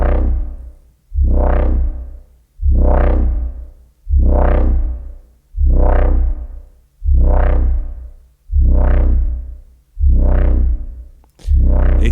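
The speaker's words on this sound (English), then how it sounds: "Put a distortion unit on something, put a EQ before it" A wub bass run through a distortion unit with EQ before it pulses in nine loud, evenly spaced wobbling swells, each starting bright and then darkening before cutting off, with no talking.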